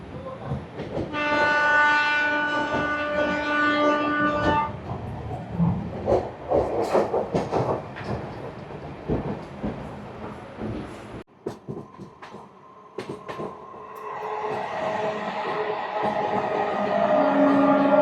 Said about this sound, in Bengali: আমরা এই মুহূর্তে অমৃত ভারত এক্সপ্রেসে জার্নি করছি